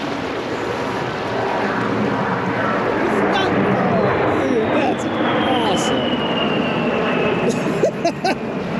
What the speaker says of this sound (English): We keep hearing planes.